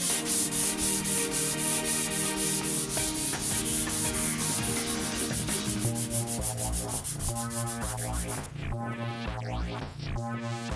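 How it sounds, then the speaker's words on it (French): Sanding on the engine bay of a Volvo 440 Turbo during paint prep, a steady, loud abrasive rubbing that runs continuously with a rhythmic pulse and slight changes in pitch toward the end. "Après un bon ponçage"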